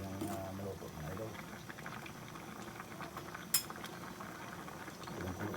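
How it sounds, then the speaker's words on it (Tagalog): Mung bean stew in coconut milk bubbles at a steady simmer in a pot, a soft continuous burble with a brief metallic clink of a utensil partway through, while people talk nearby. "Kulang-kulo na siya."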